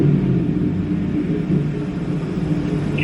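Chevrolet Silverado engine running during HP Tuners tuning: a steady, close, low rumbling drone held evenly throughout, with no sharp climb in pitch.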